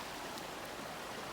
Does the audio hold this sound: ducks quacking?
no